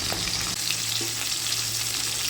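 Small mourala fish frying in oil in a pan, a dense steady sizzle and crackle close up, continuous and fairly loud, left unstirred with no voices.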